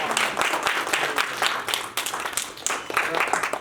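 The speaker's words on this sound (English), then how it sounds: "So give a round of applause to Awesome." Audience applause at a public speaking graduation ceremony, steady dense clapping throughout, loud and close, with scattered voices mixed in.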